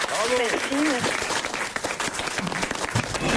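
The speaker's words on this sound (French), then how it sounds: "On vous applaudit, Audrey" A burst of applause from a studio audience on a French radio comedy show, dense clapping under a voice speaking French over it.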